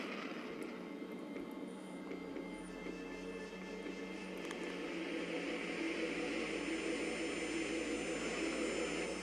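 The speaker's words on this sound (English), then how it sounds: "Commencing warp." A spaceship's warp engine in the video game Second Galaxy gives off a steady, broad roaring drone that builds slightly and holds, with a faint high tonal whine over it and no talk.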